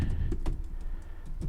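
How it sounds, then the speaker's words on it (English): Keys clacking on a computer keyboard in a short, irregular burst of taps, close by and fairly quiet. "I'm typing here"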